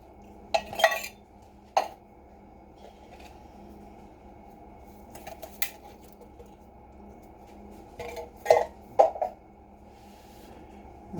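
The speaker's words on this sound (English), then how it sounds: "Give them a quick stir just to make sure they're all covered in the gravy" A utensil stirs two cans of green beans into gravy in a casserole dish, giving a few scattered clinks and scrapes against the dish with quiet gaps between them and no talking.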